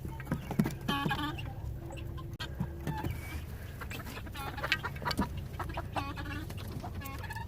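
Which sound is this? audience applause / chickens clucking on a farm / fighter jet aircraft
chickens clucking on a farm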